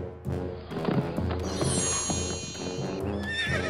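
A horse whinnies loudly as a storybook sound effect, its shrill neigh rising and wavering over a bed of clip-clopping hooves and soft thuds, close and prominent with no speech.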